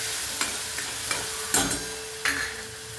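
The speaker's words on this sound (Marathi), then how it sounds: "आणि लसूण पण तर टाकून घेतलं छान असं परतू द्यायचं तेलामध्ये" Garlic and grated green chili sizzle steadily in hot oil while being stirred for a chickpea greens dish, with a few sharp spatula scrapes punctuating the continuous frying hiss.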